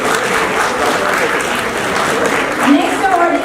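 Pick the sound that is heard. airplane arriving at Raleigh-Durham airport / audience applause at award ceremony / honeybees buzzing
audience applause at award ceremony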